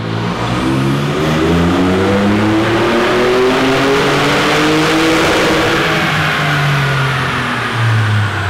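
A Ford F150 flex-fuel engine revs hard on a dyno during a 93 octane pull, with rising and falling harmonic tones of sweeping RPM and a loud, continuous roar throughout.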